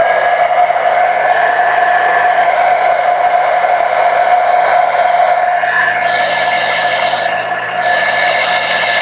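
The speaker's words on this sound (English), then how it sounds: "I will use my blow dryer to dry things quickly" A handheld blow dryer runs steadily and loudly at close range, drying a watercolor painting of a macaw, with a constant whir that barely changes for several seconds and no speech.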